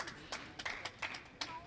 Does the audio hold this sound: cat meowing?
no